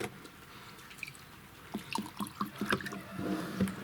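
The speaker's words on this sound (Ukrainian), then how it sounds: "Лабораторний стакан. Чистий? Чистий. З носиком, шкалою, все як має бути. Наливаємо." Trichodermin liquid is poured into a clean laboratory beaker with a spout and graduated scale, giving a soft, uneven trickle and dripping that grows busier partway through. Quiet room noise sits underneath, with no talk.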